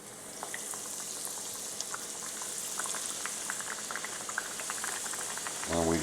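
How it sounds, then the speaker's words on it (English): Coated catfish goes into hot frying oil heated over medium-high, raising a steady bubbling sizzle with crackling pops, a louder burst near the end as more fish drops in. "So we're going to go ahead and add our fish."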